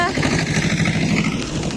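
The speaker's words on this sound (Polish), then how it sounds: "Tak się zagania konie na Podlasiu traktorem" A tractor engine herds horses in Podlasie, giving a continuous rough, throbbing drone close by, with voices partly heard over it.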